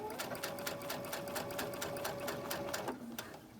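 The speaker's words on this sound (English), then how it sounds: "We're going to chain stitch these" A sewing machine chain-stitches cotton quilt pieces in a fast, steady run of needle strokes that stops near the end, close and fairly quiet.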